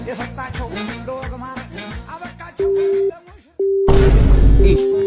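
A phone line sounding a busy tone when a non-working number is dialled: repeated steady electronic beeps with short gaps, loud and close, following a stretch of voices and background sound.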